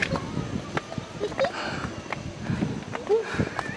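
Horse hooves clip-clop in an uneven walking rhythm amid outdoor bustle at a picnic grove in Tagaytay, with people talking over the hoofbeats.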